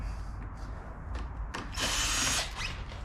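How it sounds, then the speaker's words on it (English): Power tool backing screws out of the handlebars on a 2023 Harley-Davidson Street Glide, a close, steady whirring drill burst that swells loudest near the end, with no talk. "we're going to remove these 3 screws on the top"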